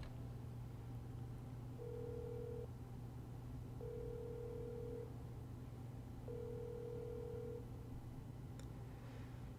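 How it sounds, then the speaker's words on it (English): Unanswered phone call in the video game First Snow: three evenly spaced ringback tones, each about a second long, sound over a low steady hum, with no voices. "I make the call."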